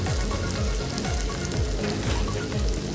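Two slices of bread hit a hot pan for a toad-in-a-hole breakfast sandwich, giving a loud, steady sizzle and crackle of frying throughout, close up with no talking.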